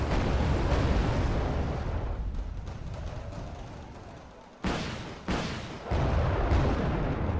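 Rockets exploding on units in a real-time strategy game, a dense rumbling barrage that fades and then returns with three sudden loud booms in quick succession.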